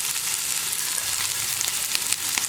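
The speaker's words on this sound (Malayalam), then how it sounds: "ചീരയുടെ തണ്ട് കട്ട് ചെയ്തതും പയർ കട്ട് ചെയ്തതും എല്ലാം ഒരുമിച്ച് തന്നെ ചേർത്ത് കൊടുക്കാം" Chopped amaranth stems and beans fry in a pan for a mezhukkupuratti, giving a loud, steady, close sizzle with faint stirring ticks throughout.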